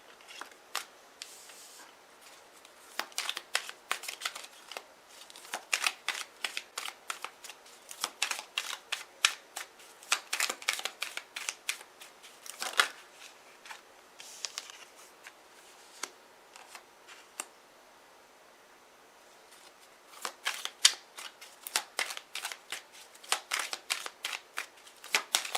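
Tarot cards are shuffled and laid out in quick bursts of crisp riffling and snapping slaps, close to the microphone in a quiet room, pausing briefly between runs with no talking.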